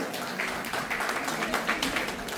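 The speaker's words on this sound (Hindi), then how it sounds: "इनके लिए एक बार जोरदार तालियां हो जाए" Audience at a community gathering clapping loudly and steadily, with voices mixed into the applause.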